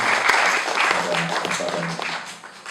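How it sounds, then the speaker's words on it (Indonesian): A gathering at a Eucharist celebration applauds, with moderate clapping mixed with voices that thins out toward the end. "Kita perlu bukan perlu tapi baik untuk memberikan tepuk tangan dulu untuk Engkung Kayan"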